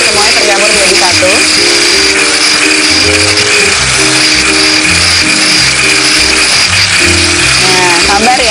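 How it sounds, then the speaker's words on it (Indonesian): A hand blender whirs continuously through apple cake batter, a loud steady motorized buzz with a wet churning texture that holds without pause. "saya akan membuktikan bahwa pakai hand blender aja pun juga bisa jadi kok"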